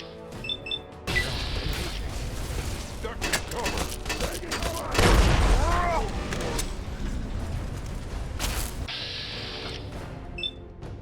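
Grenade explosions in Fallout 3 (Tale of Two Wastelands) burst out amid busy combat noise, with a heavy, booming blast near the middle and another sharp crash shortly after, over a steady clatter of game sounds.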